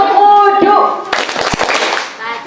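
Children clap hands in unison in a classroom wudhu clapping chant, a burst of loud, close clapping following sung voices, overlapping with shouting and chatter.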